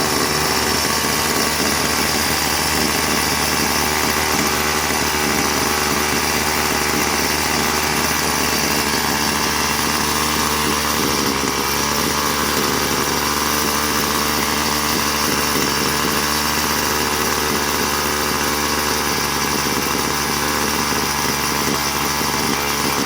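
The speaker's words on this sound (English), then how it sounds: "Now it's idling too high." A Craftsman WS210 string trimmer's two-stroke engine buzzes continuously at a steady idle set too high, loud and close, with no voices.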